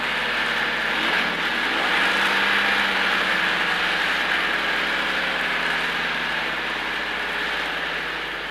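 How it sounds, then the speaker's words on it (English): A 1958 new car's automatic transmission kicks down to second gear at 35 mph during a road test, giving a steady engine drone with rising pitch and a constant whine, loud and continuous throughout. "now we'll check kickdown to second at 35."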